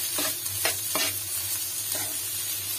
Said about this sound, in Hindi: अब हमें फ्राई अच्छी तरह कर देना है।